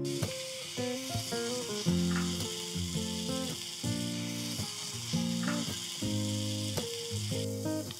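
Masvadi shallow frying in oil gives a continuous close sizzle, with musical tones over it throughout and no talk.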